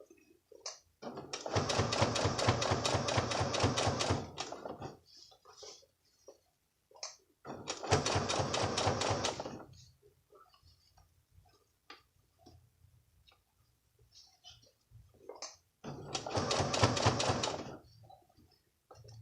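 A domestic sewing machine stitches in the ditch along a waistband, running in three separate bursts of steady rapid needle clatter, each a few seconds long, with quiet pauses between them.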